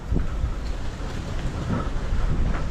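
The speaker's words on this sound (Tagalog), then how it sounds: "ang lakas ng hangin, mukhang uulan" Strong gusting wind roars and buffets the microphone in a steady low rumble outdoors ahead of possible rain, with no voices.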